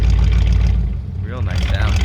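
Deep, loud rumble of a 1946 Mercury engine fitted with period headers and cherry bomb mufflers, running steadily up close as someone speaks over it.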